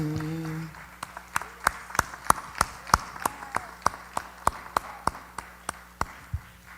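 Sparse, sharp hand claps ring out in a steady rhythm at a live album-release concert, a few people clapping at a moderate distance after a short hum at the start.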